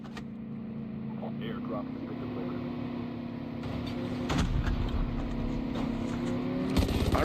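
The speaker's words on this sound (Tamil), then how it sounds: "வண்டி ஏதோ வருது நினைக்கிறேன்" Engine hum of a vehicle approaching in a video game, a steady low drone that gradually swells louder with rattling surges near the end, under constant background game noise and talk.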